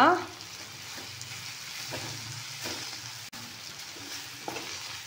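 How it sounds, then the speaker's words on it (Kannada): Garlic chutney being stirred with coriander leaves in a pan, giving a steady soft sizzle with light scraping and mixing sounds throughout. "ಇದಕ್ಕೆ ಕೊತ್ತಂಬರಿ ಸೊಪ್ಪು ಹಾಕ್ಕೊಂಡು ಮಿಕ್ಸ್ ಮಾಡ್ಕೊಳ್ಳೋಣ"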